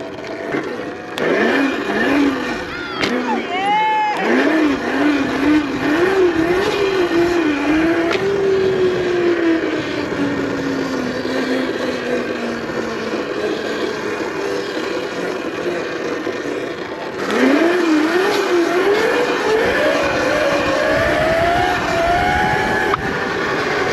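An ETM RTR electric RC car doing a wheelie runs close and loud, its motor whine rising and falling with throttle changes, dropping away, then surging again near the end over outdoor background noise.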